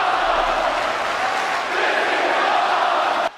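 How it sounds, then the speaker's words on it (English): Loud, dense roar of a wrestling crowd cheering at a women's championship tournament match, steady and sustained for a few seconds before cutting off abruptly. "The crowd is loving this one."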